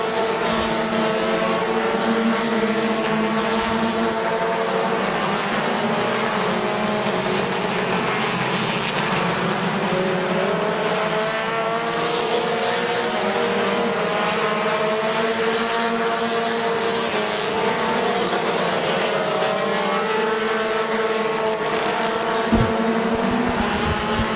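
Compact race cars roar around the oval at Midvale Speedway, several engines droning together in a steady, loud wall of sound with rising and falling pitch as the cars pass, and no talk over it.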